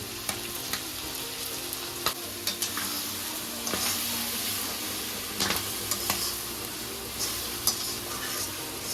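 Boti pieces frying with chili powder and salt, a constant moderate sizzle of oil broken by intermittent scraping and tapping of a spoon in the pan.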